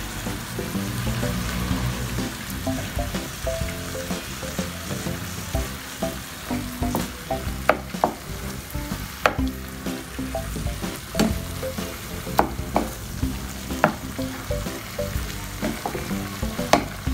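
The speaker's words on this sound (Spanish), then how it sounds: "Y vamos a agregarle un poco de salsa. Un poco de salsa, salsa de tomate." Tomato sauce added to ground beef sizzling in a pan, a loud continuous frying hiss with stirring scrapes and occasional utensil clicks, no talking.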